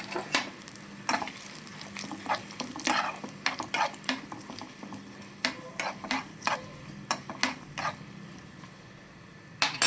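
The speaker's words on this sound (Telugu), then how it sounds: "మనము పచ్చడికి తాలింపు వేసేసుకుందాం" Garlic and two chillies sizzling in hot oil for a tempering, a steady fry broken by many quick, irregular scrapes and taps of a spoon against the pan, close and clear, with no talk.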